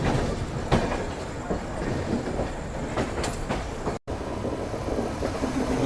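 An express train pulling out of Kanpur Central railway station gives a steady, loud rolling rumble with clickety-clack wheel beats, a sharp squeal near the start and a brief dropout before the rhythm carries on, with no voices.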